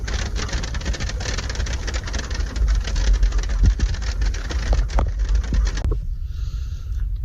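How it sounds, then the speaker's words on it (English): Steady patter of rain drumming on a truck camper cap close overhead, with a low rumble underneath, in the woods; the patter drops away abruptly near the end. "the lovely sound of rain falling on the cap"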